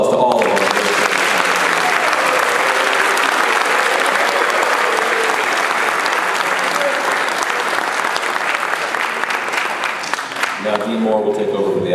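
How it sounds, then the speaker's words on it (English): Sustained audience applause at an academic awards ceremony, a dense continuous clapping from a crowd for about eleven seconds before fading as a voice begins. "give one more round of applause to all of our"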